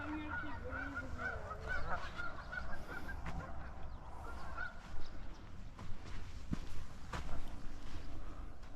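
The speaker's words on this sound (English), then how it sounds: "That's a little family of Canadian geese." A small family of Canada geese honks repeatedly at a bird sanctuary, several calls overlapping at moderate distance over soft outdoor ambience and occasional footsteps.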